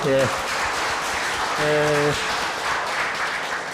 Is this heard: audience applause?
yes